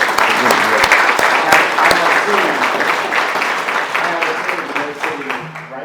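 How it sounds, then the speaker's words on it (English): An audience at a 2023 hall of fame awards event claps steadily in sustained applause for a team, with a voice speaking over the clapping. "So let's give a round of applause to the whole team."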